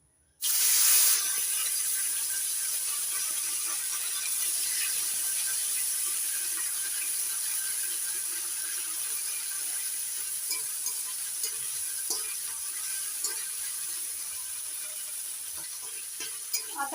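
Ginger and green chili paste hits hot oil after the tempering and bursts into a loud sizzle, then settles into a long, steady hiss with occasional soft stirring clicks, close and uninterrupted.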